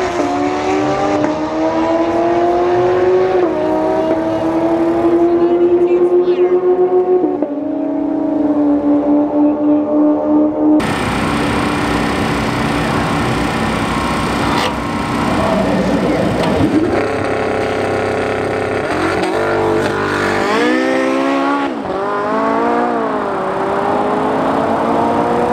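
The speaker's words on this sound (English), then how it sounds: "All right, Tesla versus 918. Let's see how this goes." A Tesla P100D and a Porsche 918 Spyder run a half-mile drag race, their engines roaring and revving hard through rising gear sweeps. Loud, close engine noise swells and shifts as the cars accelerate and pass.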